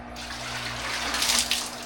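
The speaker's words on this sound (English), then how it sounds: "I gotta dump a little bit of water in here to get this." Water pours into a piranha aquarium as a steady rushing splash that swells slightly near the end, close and continuous.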